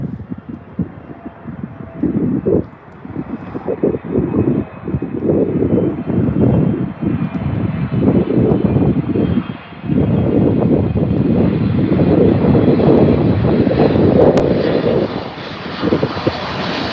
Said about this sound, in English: We'll hear it shortly, hear those massive engines.